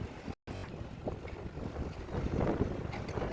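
Wind blowing steadily outdoors near a train station, buffeting the microphone with a continuous low rumble that rises slightly toward the end, with a brief dropout near the start.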